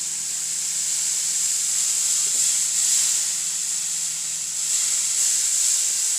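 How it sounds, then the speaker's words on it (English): Steady, loud hiss of water steaming on a hot seasoned pan during cleaning, continuous throughout with no talking. "it's going to steam the crap off"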